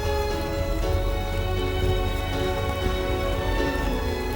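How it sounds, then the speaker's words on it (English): Heavy rain pours down steadily on a flooded, slippery hill path, a dense, continuous hiss of drops that stays loud and unbroken throughout. "we had to go through flooded, slippery paths to get to the palace with the rain pouring down heavily"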